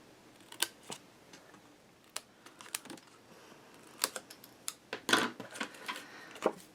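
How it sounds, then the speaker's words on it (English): Scissors snip squares from the corners of a scored paper craft pocket, giving scattered short crisp cuts, some single and some in quick bursts, close and fairly quiet with no talking. "let's cut those squares out"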